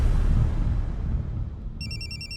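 A mobile phone ringtone starts up partway through, a repeating electronic tone pattern ringing clearly over a fading low background rumble, with no talk.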